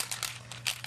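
Toner transfer paper being peeled off a surface, heard as a few short, close crinkling and papery rustles in quick bursts over under a second, alone without talk.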